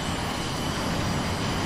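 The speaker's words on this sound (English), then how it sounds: "Let me start up the airplane." A fixed-wing airplane's engines starting up in the VTOL VR flight simulator produce a steady, dense broadband roar with no breaks. The sound holds at a constant loud level throughout, and no one speaks.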